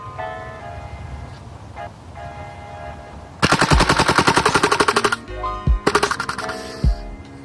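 A KWC CO2 Desert Eagle BB pistol fires on full auto close up, two loud rapid bursts of sharp cracks with a brief pause between, preceded by quieter handling sounds.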